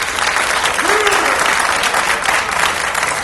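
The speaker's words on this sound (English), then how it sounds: "Give them all a big round of applause" A big round of applause from a school audience at a research competition in a high school auditorium, steady dense clapping throughout, loud and close with a faint crowd murmur beneath.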